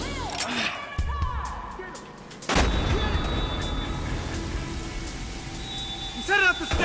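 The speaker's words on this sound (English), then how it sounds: "13 reporting shots fired" Gunshots in Battlefield Hardline: a few sharp close shots early, then a heavy boom, followed by dense ongoing rumble and crackle with game effects, under a man's radio-style voice.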